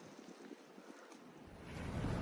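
Strong wind rushes and buffets at a campsite in Shenandoah National Park, gusting into a louder roar toward the end, with no voices.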